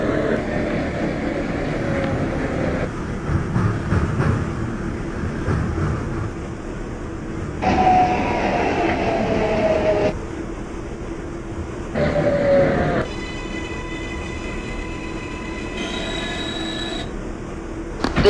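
Simulated R142 subway train on the 6 Local line in the Bronx, running steadily with rumbling wheels and rail noise, several rising motor whines and squeals, and a clear electronic tone at the end, loud and continuous with no talk.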